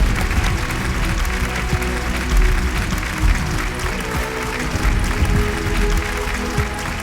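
A standing audience at a comedy show applauds, dense continuous clapping that stays loud and steady throughout, with a faint crowd murmur underneath.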